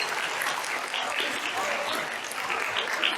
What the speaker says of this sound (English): Please give them a big applause.